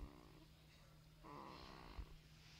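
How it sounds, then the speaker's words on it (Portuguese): Baby less than a month old snoring, a soft, steady breathy rasp held close up, with one louder snort toward the end and no talking. "Ronca igualzinho."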